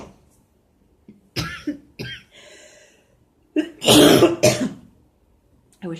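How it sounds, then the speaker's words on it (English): A few harsh coughs break out close by, separated by quiet pauses, ending in a loud rough burst of coughing. "coughing, I'm sorry."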